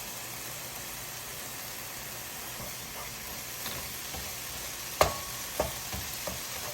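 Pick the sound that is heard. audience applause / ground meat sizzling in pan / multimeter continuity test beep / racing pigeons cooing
ground meat sizzling in pan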